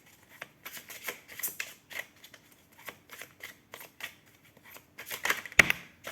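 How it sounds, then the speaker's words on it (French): Tarot cards being shuffled and handled, a run of soft papery riffles and flicks at close range with small taps and pauses between them, no voice. "Je prends donc maintenant, allez, les 5 cartes."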